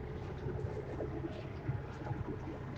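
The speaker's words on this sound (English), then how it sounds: "You can hear the engines behind me" Boat engines running while motoring on a lake in the Panama Canal, a steady low rumble with wind and water noise, fairly even and continuous with small bumps.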